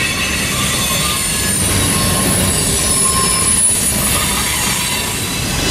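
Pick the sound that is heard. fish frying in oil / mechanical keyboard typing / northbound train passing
northbound train passing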